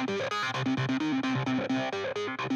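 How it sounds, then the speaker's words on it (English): A synthesizer line pushed through an aggressive amplifier and overdrive, giving a gritty, buzzing acid-style riff of fast pulsing notes that runs dense and loud with no talk. "more aggressive amplifier and a bit more overdrive."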